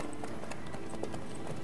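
A swift horse trotting at a slow canter in The Witcher 3: Wild Hunt, with steady rhythmic hoof clops under a dense, even game soundscape.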